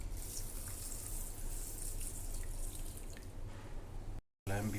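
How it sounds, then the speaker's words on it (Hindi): Water pours into a bowl of soaked moong dal in a home kitchen, a steady trickling splash that runs for several seconds before a brief cutoff, with no talking. "तो सिंपल मैं इसमें पानी डाल रहा हूँ।"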